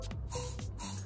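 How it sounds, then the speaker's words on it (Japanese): Hair spray aimed upward at the roots of lifted hair strands, heard as two long close hissing bursts separated by a short pause, with no talking. "最後にスプレーで根元のこの立ち上がってる部分ですねをつまんで、下からスプレーを"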